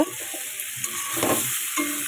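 Vegetables frying in hot oil in a wok (kadai), a dense, continuous sizzle with stirring scrapes, close up and without speech.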